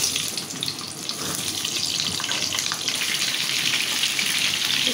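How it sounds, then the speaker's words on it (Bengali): Pointed gourd fries in a pan with a continuous hissing sizzle, bright and fairly close, steady for several seconds with no talking. "এটার ভিতর আমি পটলটাও ভাজি করে নেব"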